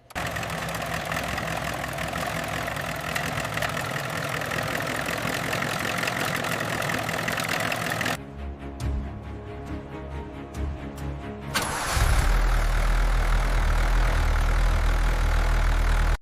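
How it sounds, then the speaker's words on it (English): The restored LEVIATHAN X12, a giant Bison vehicle, idles after ignition with a steady, loud engine drone, a brief quieter dip partway through, then a deeper, heavier rumble as it settles. "Engine cranking. Success. She's alive."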